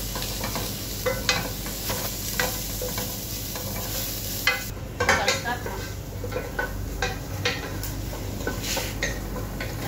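Onions frying on minimum heat with a steady low sizzle, broken by repeated scrapes and clinks of a utensil stirring against the pan, close and fairly loud throughout.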